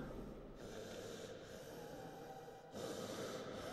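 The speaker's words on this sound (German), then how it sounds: "Oh, dieses ekelhafte Atmen." A monster's heavy, rasping breathing in the video game Astray, long drawn-out breaths that swell and fade in a slow rhythm, close and alone against a low background hum.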